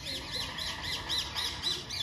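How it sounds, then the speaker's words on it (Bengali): A myna bird at Guwahati zoo gives a run of repeated, evenly spaced squawking calls, about seven or eight in a row, fairly faint at a distance over low background murmur. "এই যে ময়না পাখি"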